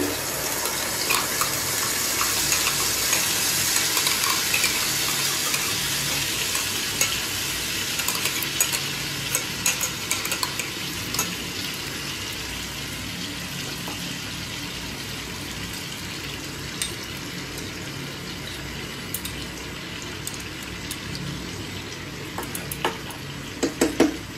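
Spices fry in butter and oil while being stirred, making a steady bright sizzle with scraping from a spoon. It is close and continuous, with a few louder clinks near the end.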